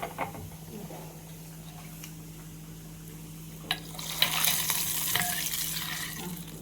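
Cumin seeds crackle and sizzle in hot oil, the spitting growing louder and denser toward the end, with a steady low hum underneath and no talking.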